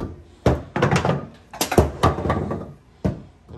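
Bowling pins being pulled out of a jammed deck on a vintage Brunswick pinsetter, giving a series of close hollow knocks and clattering thunks in irregular bursts, with no talk.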